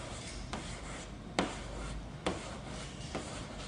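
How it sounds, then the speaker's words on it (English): Squeegee smoothing a vinyl racing stripe onto a 2010-2012 Camaro hood, a soft steady rubbing hiss, quiet and close, with a few faint sharp ticks between overlapping strokes. "Finish my squeegee move down to my hand once again."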